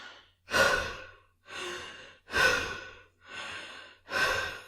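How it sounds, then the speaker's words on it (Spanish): Strange breathing in a dark room, a series of five slow, heavy, rasping breaths, each a long sighing exhale with short gaps between, close and alone. "Habría jurado que en la habitación estaba alguien más, respirando de forma muy rara"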